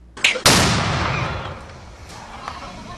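Fireworks set off around the Fourth of July in Oklahoma. A short crackle is followed by a loud, sharp bang that rumbles and fades over a few seconds.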